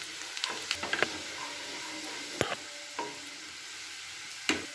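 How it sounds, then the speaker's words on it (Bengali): Chopped garlic frying in melted butter in a pan gives a quiet, continuous sizzle, broken by a few scattered spatula scrapes and taps nearby. "এবারে দিয়ে দিলাম কিছুটা রসুন কুচি। রসুনটাকে খুব ভালো করে কিন্তু এটা ভাজা ভাজা করে নিতে হবে"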